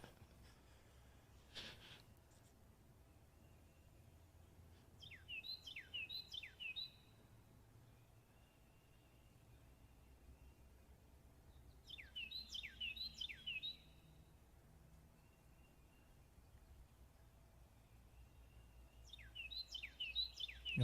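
Birds call at Lake Norman during a live outdoor fishing tournament broadcast, with short bursts of chirping three times, each lasting a second or two, set against a steady low ambient background.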